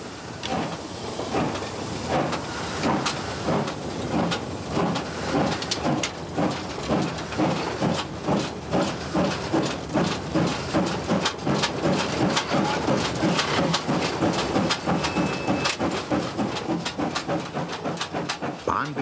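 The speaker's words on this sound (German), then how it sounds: "er legt auch sein ganzes Feingefühl in die letzte Ausfahrt mit seinem Zug aus einer Bahnsteighalle" Reichsbahn steam locomotive pulling a train out of a station hall, with loud, steady, rapid chuffing exhaust beats and hissing steam that echo under the roof and build gradually over about nineteen seconds.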